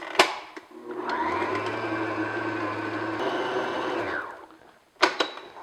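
An electric hand mixer whirs steadily for about three seconds, beating softened cream cheese in a bowl until smooth, with clunks of the beaters against the bowl before and after the run.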